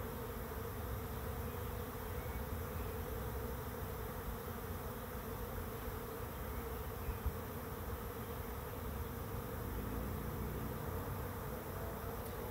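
A swarm of bees moving into a swarm trap makes a steady, dense buzzing hum that carries on unbroken, fairly faint and with no voices.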